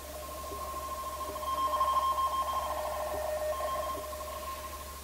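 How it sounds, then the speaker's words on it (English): A Baudot code teleprinter signal plays as steady warbling radio tones, two close pitches alternating rapidly in a continuous data stream, moderately loud over a hiss of background noise and heard alone without speech. "What you're listening to there is not Morse code, it's Baudot code."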